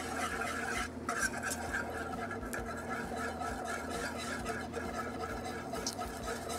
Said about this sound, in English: We're gonna start whisking in a half a cup of all-purpose flour.